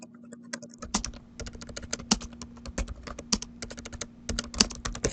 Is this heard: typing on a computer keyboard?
yes